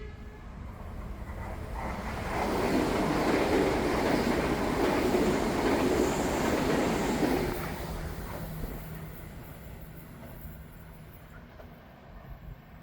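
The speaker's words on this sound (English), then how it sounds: "half the trains running through on a regular Southern Cross service and all Warrnambool trains skip it" A train rushes through Corio Station on the Geelong line at speed without stopping, a broad roaring rumble swelling loud for several seconds and then fading away as it recedes.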